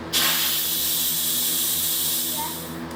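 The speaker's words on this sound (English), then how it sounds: "push the button and let the steam out until your pin drops" Steam hisses steadily from an Instant Pot's pressure release valve while cooking creamy tomato soup, a loud continuous broadband rush that holds for about three seconds before tapering slightly at the end.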